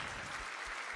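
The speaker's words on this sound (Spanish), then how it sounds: "Un fuerte aplauso para Mayra." Church congregation applauding during a Spanish-language Catholic service, a steady wash of many hands clapping at moderate distance, dense and even throughout.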